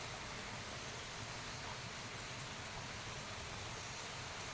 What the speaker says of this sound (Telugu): వర్షం వస్తూ ఉందండి బాగా